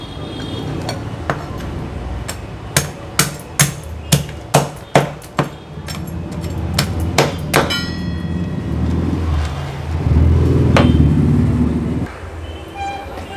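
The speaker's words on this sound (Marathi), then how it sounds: "अशाच पद्धतीने उरलेल्या शेवंडी देखील मी कापून घेते" Lobsters being chopped on a board with a knife while preparing an Agri Koli style lobster curry: a fast run of sharp, loud cutting thuds and knocks, followed by rustling and handling noise, with no talk.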